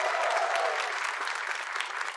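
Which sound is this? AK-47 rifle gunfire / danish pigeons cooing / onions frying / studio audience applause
studio audience applause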